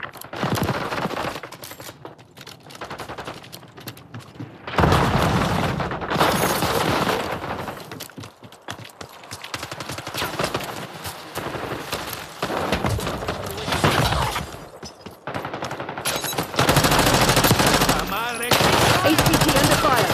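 Rapid automatic gunfire and bursts of shooting in Call of Duty: Black Ops 6, loud and close, coming in intense stretches broken by brief quieter gaps, with occasional booms.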